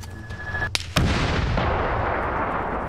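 A tank firing in Arma 3 on the Chernarus map: a sharp cannon blast followed by a long rolling boom and rumbling tail, loud and close, with no voices.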